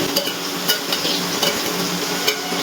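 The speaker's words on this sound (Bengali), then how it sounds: "হলুদ আর লবণ দিয়ে আলুটা খুব ভালো করে লাল লাল করে ভেজে নিচ্ছি" Potato pieces frying in hot oil with turmeric and salt, a close, continuous sizzle with light stirring scrapes and small pops throughout.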